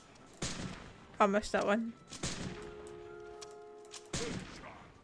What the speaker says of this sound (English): They're shooting at someone.